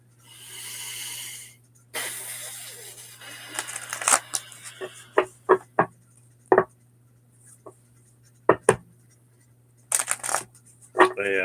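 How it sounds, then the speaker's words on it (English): Tarot cards being shuffled by hand in a quiet room, with a longer riffle followed by scattered short slaps and flicks at an irregular pace, close up over a low constant hum. "I'll give this a few more shuffles."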